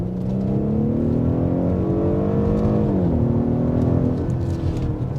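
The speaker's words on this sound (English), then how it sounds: "when I put my foot to the floor, and you're gonna hear the engine downshift and transmission, everything else kick into play" A 2021 Audi SQ5 engine pulls hard at full throttle, its loud, steady roar climbing in pitch, briefly dipping and resettling twice as the transmission shifts, with no talking over it.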